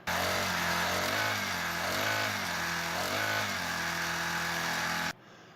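A motor of an Eskimo ice auger spinning fast gives a loud, steady high-pitched whine with a slight wavering pitch, then cuts off abruptly near the end.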